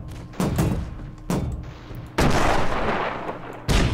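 A T-40 steampunk tank's main cannon in a 2D war game booms out four heavy, close shots at irregular intervals, each blast trailing into a rumbling decay, with no talking.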